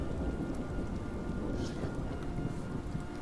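Steady, dense rain hisses without a break, with a low rumble of thunder rolling underneath as a continuous storm ambience.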